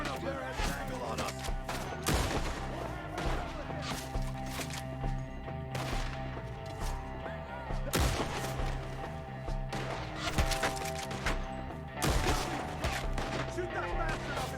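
Video game gunfire against Skinners perched in trees, repeated sharp shots and bursts spaced every couple of seconds over steady background game noise, with voices shouting at times.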